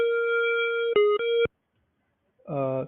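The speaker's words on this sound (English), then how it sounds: "this is what a square wave sounds like" A buzzy synthesizer square-wave tone holds, briefly shifts pitch twice, then cuts off; after a pause, a short warbling synth note sounds.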